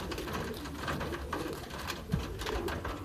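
Soft, repeated cooing from New York Flight pigeons in a loft, low throaty calls blending into a steady background of bird sounds, close and moderately quiet with no talking.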